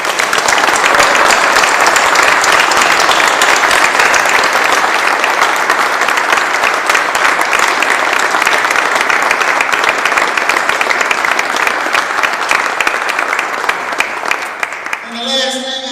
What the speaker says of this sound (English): let's give them a round of applause for the time